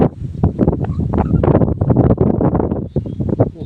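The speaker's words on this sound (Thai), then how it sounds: "ลมแรงครับวันนี้" Strong wind buffeting a microphone outdoors beside a pond in rural Thailand, loud irregular gusts thumping and roaring in quick bursts, close and harsh, with no clear voices.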